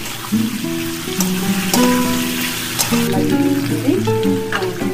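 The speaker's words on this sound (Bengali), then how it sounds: "দেখুন আমি আদাটা দিয়ে দিলাম, দিয়ে আদাটা 2-3 মিনিট নাড়াচাড়া করে নেবো।" Ginger paste sizzling in a pan alongside potato and pumpkin as it is stirred, with a loud continuous fry and occasional stirring scrapes close by.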